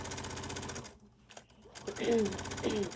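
A sewing machine runs in rapid mechanical bursts while stitching a facing onto the front of a Hawaiian shirt, stopping briefly midway before restarting, with a voice speaking over it.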